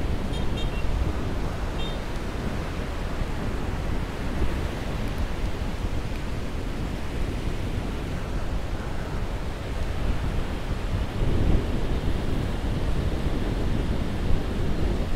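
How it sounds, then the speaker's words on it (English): Ocean surf breaks on the shore at a beach in El Nido, a constant, full wash of waves with a steady wind-like hiss and no voices. "All you can hear is the waves crashing up on the shore."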